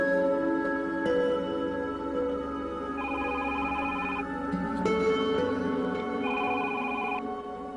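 An indoor telephone rings in repeated electronic trilling bursts, steady and fairly loud, with no speech over it.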